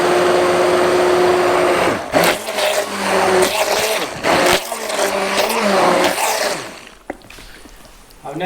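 A blender whirs steadily as it mixes lye and oils for homemade soap, then cuts in and out in short pulses as the motor pitch shifts.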